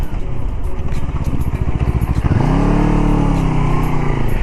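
A KOVE 250RR Thornbird motorcycle rides along with a pulsing engine note, then the pitch settles into a steady lower drone as the bike brakes and slows, heard close with wind rush.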